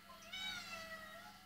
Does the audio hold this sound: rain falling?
no